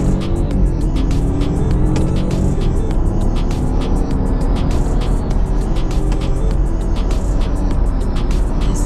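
A BMW F30 318i with a 136 hp engine pulls hard from inside the car, a loud continuous drone rising in pitch through the revs with steady road and wind roar, no voices.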